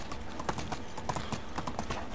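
A horse's hooves clip-clop in an irregular walking rhythm in the game Medieval Dynasty, quiet and fairly close, with no other sound over them.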